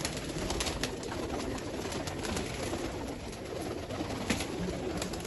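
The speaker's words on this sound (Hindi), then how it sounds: "एक से बढ़कर एक हाजी साहब का कबूतर है।" Pigeons coo softly in a rooftop loft, low rolling calls repeating over a steady background hiss, moderately distant and unhurried.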